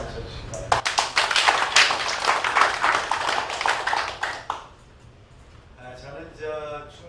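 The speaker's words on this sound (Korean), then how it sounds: "저하고 같은 생각에 박수 한번 쳐주실 거예요." Audience at a Korean trade association leaders' meeting claps loudly for about four seconds, a dense burst of hand claps that then fades as murmured voices continue underneath.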